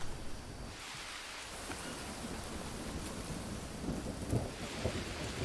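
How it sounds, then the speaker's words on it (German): Heavy rain pours in the jungle survival game Green Hell while low thunder rumbles beneath it, a continuous stormy wash with a few louder swells toward the end and no speech. "Oh, es regnet."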